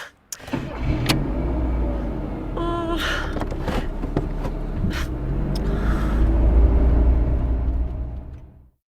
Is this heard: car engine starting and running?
yes